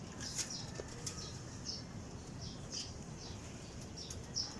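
A released pigeon flapping its wings, soft repeated flutters and wingbeats in quick bursts, faint against a quiet outdoor background.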